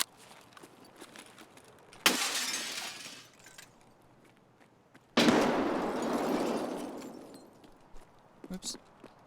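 In the video game Escape From Tarkov, a grenade thrown through a window sets off two loud, sudden crashes of shattering glass and debris, each fading over a couple of seconds, with quiet footsteps and faint clicks between them.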